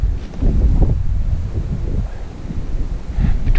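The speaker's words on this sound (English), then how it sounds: "Wind's blowing this way." Gusty wind blowing across open Nebraska public land during a deer hunt, a loud, close rumbling buffet with surging, uneven gusts and no voices.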